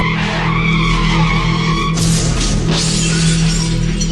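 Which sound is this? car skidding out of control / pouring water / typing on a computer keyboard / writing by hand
car skidding out of control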